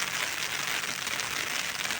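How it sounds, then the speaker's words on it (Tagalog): Steady broadband patter of morning rain falling on surfaces, even and continuous throughout, with no voices. "Ayan, bali umuulan ngayong umaga."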